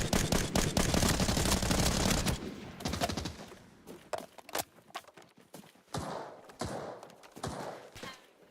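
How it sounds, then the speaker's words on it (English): Sniper and other gunfire in the shooter game Solo, a rapid burst of loud overlapping shots followed by scattered single cracks and thuds, some near and some more distant. "Being sniped at now too."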